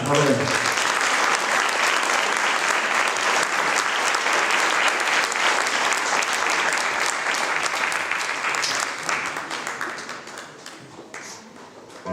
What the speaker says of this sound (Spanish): Un aplauso para Alma Flamenca.